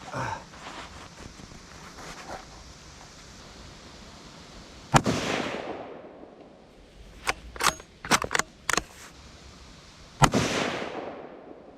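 A Ruger American rifle in 350 Legend fitted with a muzzle brake fires outdoors, two loud sharp shots with long rolling echoes, with a cluster of metallic bolt-working clicks between them and no talk.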